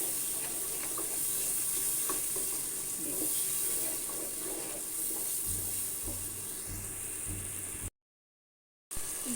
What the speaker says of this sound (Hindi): अब ये टमाटरों के साथ भूनता रहेगा।